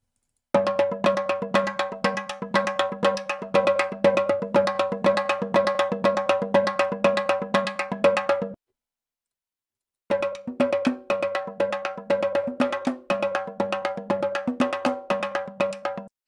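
Studio percussion loops from a pro percussion sample library, with a steady, busy cowbell-like metallic pattern over drums. The playing is cut by a brief silence and then a second, slightly different groove follows. No voices.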